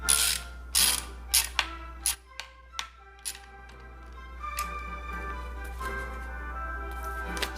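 Tightening screws into the neck hardware of a 5150 guitar build with a screwdriver gives several sharp, close clicks and ratchet-like snaps, then softer, scattered mechanical ticks in a quiet room.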